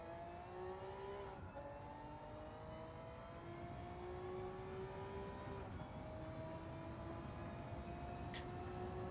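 An underpowered car in the racing game Gran Turismo 7 on PS5 revs up through the gears, its engine tone climbing steadily and dropping at each of two shifts, loud and continuous.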